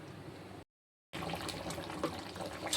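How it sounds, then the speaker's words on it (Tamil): Crab gravy bubbles and simmers in a cooking pot, a soft, dense crackle of boiling broken by a brief moment of silence. "நல்லா நண்டு வந்து குழம்பு கொதித்து வருது"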